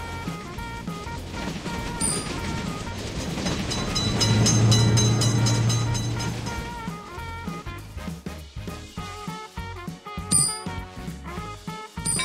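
In a railroad crossing simulator video game, a train rumbles past the crossing. The roar swells to a loud peak, then breaks into rhythmic clickety-clack over the rails and fades, with a crossing bell sounding over it and no talk.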